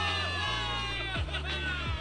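Soldiers cheer in the video game Zenless Zone Zero, a short burst of crowd whoops and shouts layered over a steady tonal music bed.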